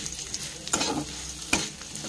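Plum chutney with sugar being stirred in a pan, giving two brief scraping stir strokes over a low, steady sizzle, close and fairly quiet, with no voices.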